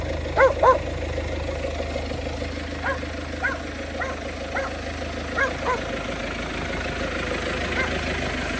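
A dog barks repeatedly, a pair of louder barks first then a string of fainter ones, over a steady idling drone of an Arpal AM-120TR tractor engine.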